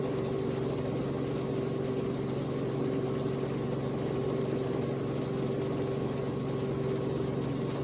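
A Robinson R44 helicopter's engine runs steadily during a hover taxi, a continuous droning hum with a strong low tone that holds even in level throughout, heard from inside the cabin with no talking.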